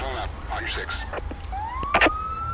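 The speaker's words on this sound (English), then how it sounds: "turn on our sirens here" A video game police car siren in Grand Theft Auto V switches on and winds up into a rising wail, after a few mechanical clicks and muffled voices.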